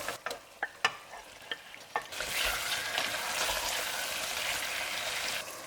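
Chicken frying with spices and tomato purée on a medium flame, opening with a few sharp scrapes of a stirring spoon, then settling into a steady, loud broadband sizzle that carries on to the end with no talk.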